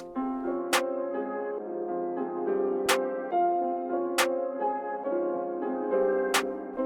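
A melodic synth line plays over sparse, sharp UK drill snare hits landing at wide intervals, loud and upfront with no voices.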